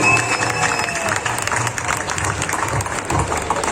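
A stage audience at a cooking competition claps and cheers, a dense, steady wash of applause filling the space without a break.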